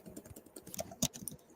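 Quick, light keystrokes on a computer keyboard while writing HTML and CSS code, a short close burst of irregular clicks with one louder tap near the middle.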